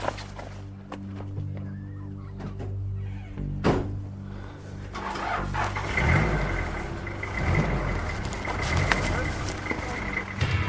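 A car idles with a steady low hum, a door thunks shut, then the engine revs up and the car pulls away with a loud, rising roar during a police pursuit, no voices heard over it.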